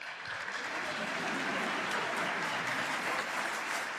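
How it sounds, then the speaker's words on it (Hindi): Studio audience applauding throughout a televised courtroom-style talk show, dense steady clapping from a large crowd at close range, with faint voices underneath. "आप लोग ताली बजा के बताइए और हाथ उठा के बताइए"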